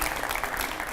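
An audience at a televised debate on protests over new UGC rules claps in a brief, dense burst of applause, steady and moderately loud throughout.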